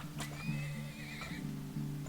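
A horse neighs with a long, wavering whinny in the strategy game Turmoil, set over a steady low droning game soundtrack, with no voices.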